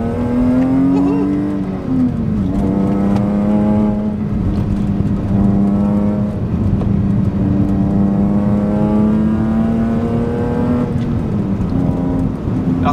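A BMW M3 E46 Touring engine pulls hard under acceleration, its tone climbing steadily and dipping briefly between revs. The sound is loud and continuous from inside the car.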